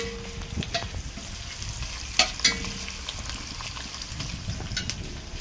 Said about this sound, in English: Fry the onion first.